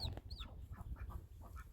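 A mother hen sitting on eggs in a cage clucks softly in a few short, low calls, close by, with faint higher chirps mixed in and no talking.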